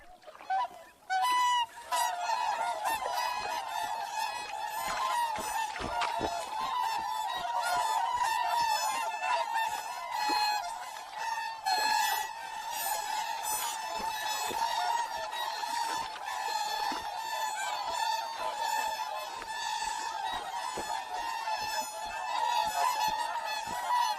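A large flock of swans in Hokkaido in late winter calls continuously, a dense chorus of loud honking and bugling notes overlapping throughout, close and far birds mixed together with no talking.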